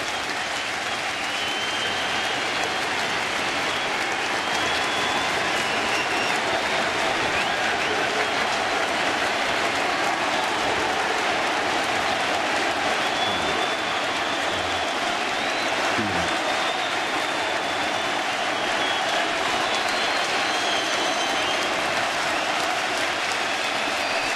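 Baseball stadium crowd at a Rockies at Mets night game in New York, a dense, steady roar of cheering and applause running loud and unbroken throughout.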